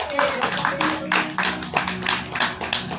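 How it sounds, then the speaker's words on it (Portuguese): Church congregation clapping hands for the Lord at a Portuguese-language worship service, a loud continuous patter of many hands sustained throughout with musical tones underneath. "Você pode aplaudir ao Senhor bem forte em nome de Jesus?"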